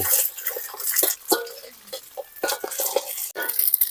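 Two eggs sizzle and crackle in a hot wok, with scraping and clattering of a utensil against the metal throughout.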